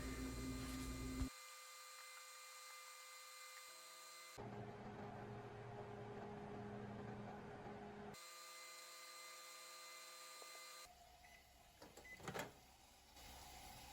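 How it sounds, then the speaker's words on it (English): A microwave oven running at power level 4 while jars of carnivorous plant tissue culture medium boil inside, giving a steady electrical hum that cuts in and out in blocks as the magnetron cycles on and off. "I found that my microwave does this at the power level 4, and you're gonna wanna have these boiling for a minute straight."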